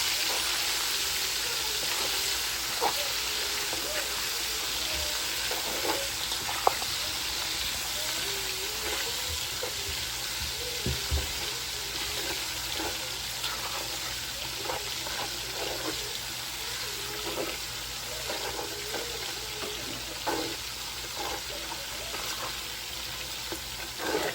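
Onions frying in hot oil in a pot for Congolese madesu beans, a steady close crackling sizzle that continues throughout with occasional light stirring clicks.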